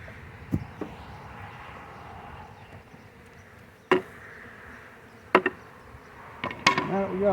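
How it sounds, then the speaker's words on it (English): Honey bees from a newly installed swarm hum in a hive box in a soft, continuous drone, punctuated by several sharp knocks and clunks of handling nearby. "Box is still full of bees."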